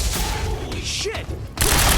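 Loud, dense gunfire in Quantum Break, a continuous roar of shots with a brief lull partway through before a heavy burst returns.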